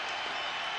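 Basketball arena crowd at a Timberwolves game, a dense, loud roar of cheering and clapping filling the short moment without pause.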